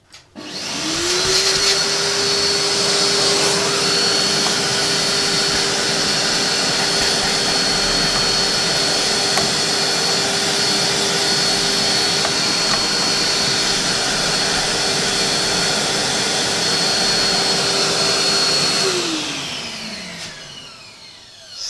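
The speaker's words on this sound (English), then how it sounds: "I'm gonna use a vacuum cleaner and a brush." A vacuum cleaner removing dust from a computer whines up to speed, runs loud and steady for about twenty seconds, then winds down as it switches off.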